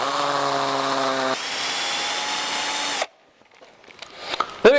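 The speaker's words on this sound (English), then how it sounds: "There we go, drilling done." A power drill whines steadily at high speed while drilling holes to install touch-release hardware, changing pitch partway through, then stops abruptly, leaving faint clicks and handling noises.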